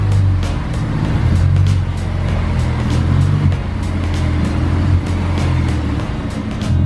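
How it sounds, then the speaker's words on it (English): A Honda S2000 idles with a low, steady engine rumble while slowly backing out of a driveway, close and loud with slight fluctuations in the exhaust note. "I'm gonna back this car out the driveway so I can see how it looks like outside"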